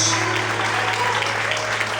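Steady applause fills a church congregation during a Portuguese-language worship service, with a low hum underneath and faint voices mixed in.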